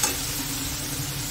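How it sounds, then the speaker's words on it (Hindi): Masala of spices frying in a pan while being stirred for a potato curry, giving a steady, close sizzle with scraping stirs throughout and no talking. "मसाला हमारा भून रहा है और धनिया भी हमने कूट लिया है। अब इसको चला लेंगे"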